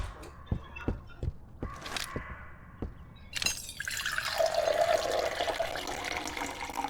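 Water trickles in the farming video game We Harvest Shadow, first as a few sharp separate drips and footstep-like knocks, then as a steady close stream running continuously to the end, with no talking.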